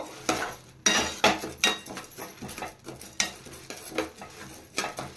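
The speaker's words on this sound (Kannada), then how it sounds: "ನೋಡಿ, ಈ ರೀತಿ ಫ್ರೈ ಮಾಡ್ಕೋಬೇಕು" A spoon scrapes and stirs lentils frying in oil in a pan, in irregular strokes over a faint sizzle, close by with no voices, while making vangibath powder.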